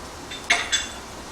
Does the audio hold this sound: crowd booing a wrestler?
no